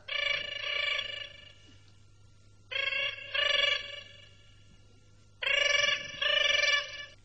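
A telephone rings in three separate double bursts of electronic trills, close and clear, with quiet pauses between rings in a Malayalam comedy scene.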